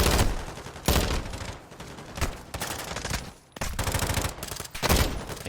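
Rapid gunfire from a Call of Duty esports match between Toronto Ultra and Florida Mutineers comes in loud, dense bursts and fusillades, broken by brief pauses throughout.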